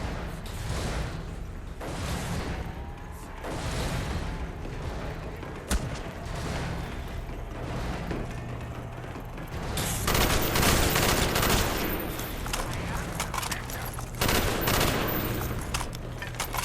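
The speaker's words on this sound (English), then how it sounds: "You can hear the barriers being broken by the zombies. You can hear gunshots." Rapid bursts of gunfire crackle continuously in a Call of Duty Zombies game, some volleys louder and denser, with booming impacts and zombies breaking barriers over a noisy, echoing soundscape.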